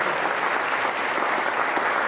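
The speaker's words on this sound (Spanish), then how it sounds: "un aplauso, claro que sí" Steady, dense audience applause at an event commemorating the 150th birth anniversary of General and Engineer Amado Aguirre, sustained and evenly loud throughout without pauses.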